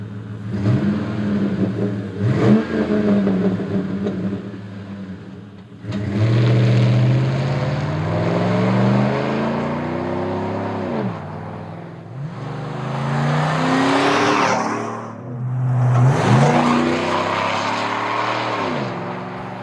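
A 2007–13 GM Silverado 1500 pickup with the 5.3L V8 and an American Thunder cat-back exhaust revs and accelerates in two loud passes. A deep, throaty drone rises and falls in pitch, with a brief dip in the middle.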